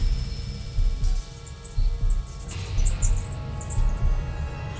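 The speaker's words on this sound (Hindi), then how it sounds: "ये आई थिंक चमगादड़ों की आवाज़ है।" Bats at Bhangarh Fort make faint, high, scattered squeaks and chirps over a steady low rumble and rhythmic throbbing background noise inside the old ruined fort.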